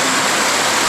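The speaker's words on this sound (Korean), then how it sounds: "비가 와서 그런지 물소리도 조금 활기차게 느껴지네요" A mountain forest stream, swollen after rain, rushes loudly and steadily on a hiking trail in the Yeongnam Alps near a waterfall.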